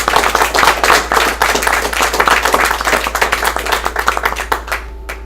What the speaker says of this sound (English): maybe a round of applause for the presenters